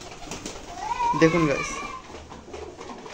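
Pigeons, including a Pakistani crossbreed, coo in a farm loft; a soft rolling coo rises briefly in the middle, close and fairly quiet, while a person speaks briefly.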